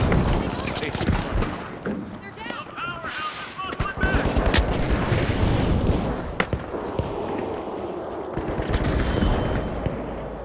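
Call of Duty gunfire: rapid bursts of shots and sharp cracks, loud and close, repeating across the clip with a clattering rhythm, mixed with game noise and someone talking over it.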